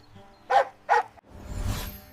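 A dog barks twice in quick succession, sharp and close, followed by a muffled rumbling thud.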